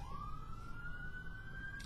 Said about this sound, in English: Sirens and semis all the time.